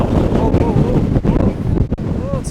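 Strong wind buffets the microphone at an RC glider flying field, a loud, continuous rumbling roar with gusty surges, and voices talking faintly beneath it.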